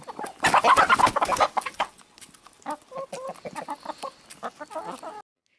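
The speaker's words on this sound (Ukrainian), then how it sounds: "Курочка каже Ко-ко-ко." A hen clucks in quick bursts, loud and close, then a softer run of rhythmic clucking follows with no talking.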